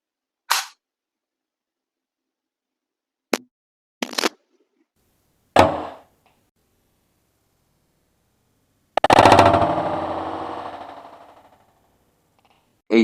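Air pistol shots from an Umarex HDR 68 revolver fired over a chronograph: four sharp, separate cracks spaced a second or two apart, then a louder longer blast that trails off, with one more shot cut off at the end.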